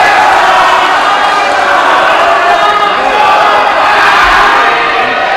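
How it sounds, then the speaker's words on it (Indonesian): Audience applause and cheering fill a hall at a 2015 regency head candidates' debate in Demak, Central Java, a loud continuous wash of clapping and crowd noise throughout. "mari kita beri tepuk bersama yang meriah kepada masing-masing"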